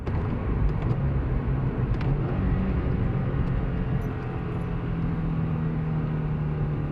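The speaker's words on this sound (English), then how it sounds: "Probably one of my better sets of downshifts." Car engine during rev-matched downshifts, a steady loud drone with blips shifting pitch, close-up interior sound with no talking.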